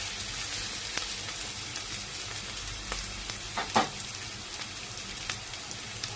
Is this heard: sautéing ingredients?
yes